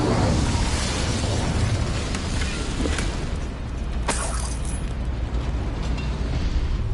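A fiery Incendio spell blast in Hogwarts Legacy, a loud, roaring burst of flame and crackle that fills the scene continuously, with a sharper crack partway through.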